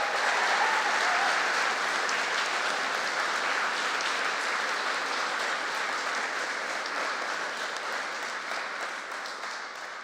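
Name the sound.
audience applause at graduation ceremony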